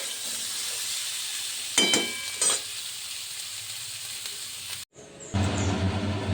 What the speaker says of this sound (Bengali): এবার ওই তেলে আমি ফুলকপি, আলু, পেঁপে সব সবজিগুলো হালকা লাল করে ভেজে নেব।